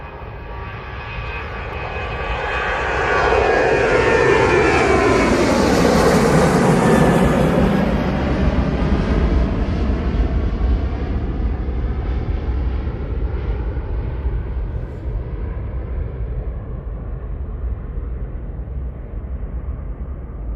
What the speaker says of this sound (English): So this is Ryanair off to Bucharest.